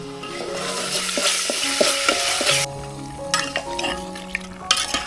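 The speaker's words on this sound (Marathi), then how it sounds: "चिकन असं चांगलं मिक्स करून घेऊ" Raw salted chicken is stirred and tossed in a pan over a wood-fired clay stove, a steady sizzle punctuated by repeated scraping and clinking strokes of the spoon, close and loud.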